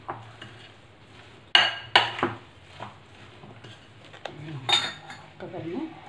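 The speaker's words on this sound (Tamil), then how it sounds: "இப்போ நம்ம ஒரு பிளேட் எடுத்துக்கணும். இந்த பிளேட்டில் வந்து எல்லாம் போடணும்." Steel plates and serving spoons clink and scrape as a plate of carrot bhelpuri chaat is filled, with several sharp metallic knocks and softer rustling scoops between them, close and fairly loud.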